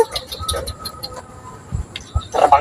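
Birds coo and cluck in short, scattered bursts nearby, with some rustling and a brief human voice at the end.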